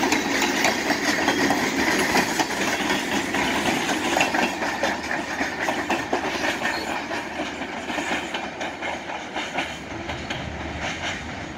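A Montana Rail Link military freight train rolls by, its cars clattering in a steady, close clickety-clack rhythm with engine rumble underneath, continuous and gradually easing, with no voices.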